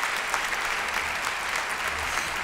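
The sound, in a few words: audience applause at a comedy show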